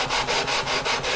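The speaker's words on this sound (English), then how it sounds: "we're going to maintain our 16-inch radius by sanding a cylinder, not a cone" Close, loud, steady back-and-forth rasping as a fretboard is sanded to a 16-inch cylindrical radius on a 1965 Martin 000-18 guitar for a refret, about five even strokes with no talking.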